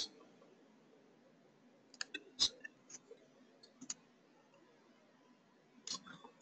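Computer mouse clicks in a quiet room, a sparse scatter of short, crisp single clicks with a small cluster near the middle and a couple more at the end.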